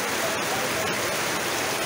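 Heavy monsoon rain pouring down with water rushing and flooding around the spot, a dense, steady hiss of falling water and flow filling the whole stretch without pause.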